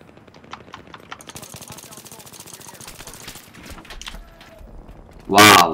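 An M16A3 rifle fires rapid bursts in Battlefield 3 on the Operation Metro map, a fast ticking volley of shots with a loud burst at the end, while someone talks over the gunfire.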